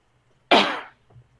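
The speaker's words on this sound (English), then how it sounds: "I coughed." A single sharp, explosive cough bursts out close and loud, then trails off quickly, leaving near silence with a faint murmur afterward.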